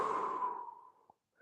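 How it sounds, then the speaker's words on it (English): A single deep, close breath during a standing full-body stretching workout, a soft airy exhale that fades to silence. "Breathing deeply."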